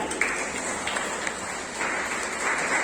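Children at a school prize distribution applaud with steady, sustained clapping from a crowd, moderately near, swelling slightly toward the end.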